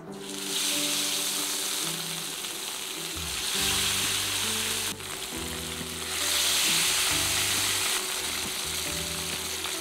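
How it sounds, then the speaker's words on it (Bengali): Spice-coated fish pieces fry in hot oil with a loud, continuous crackling sizzle that swells and eases slightly, close and steady throughout, with a low hum underneath. "ভালো মতো মাখানোর পর গরম তেলে একটা একটা করে দিয়ে ভেজে নিব"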